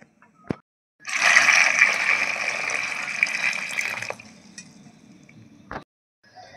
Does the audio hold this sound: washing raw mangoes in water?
yes